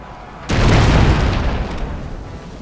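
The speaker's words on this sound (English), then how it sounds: "Right side cannons, fire." A ship's cannons fire in the video game Anno 1404: Venice, a single loud, sudden boom that swells into a broad rumbling blast and slowly decays over a couple of seconds.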